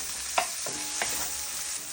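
Onions with serrano and jalapeno peppers frying in hot oil over high heat, a steady bright sizzle with a few soft stirring scrapes and taps, close and alone.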